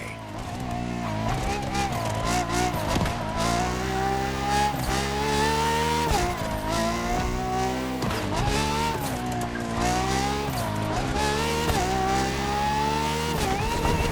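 A Ferrari FXX K, a track version of the LaFerrari hypercar, screams through a lap in a racing video game, the engine loud and constant with repeated rising revs, sharp shifts and tire squeal.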